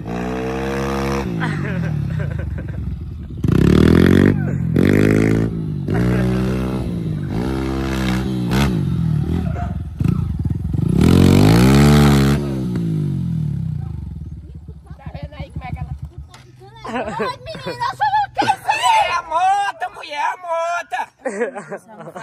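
A new motorcycle engine revs hard in repeated rising bursts, loud and close, then settles into a lower rumble while someone talks excitedly in Portuguese over it.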